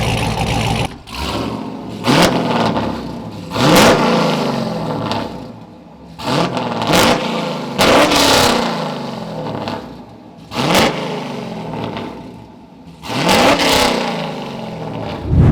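LS-swapped Hyundai Genesis Coupe with a Chevy V8 and quad-tip exhaust, blipped repeatedly in loud, close revs that spike and fall back to a rumbling idle between each burst.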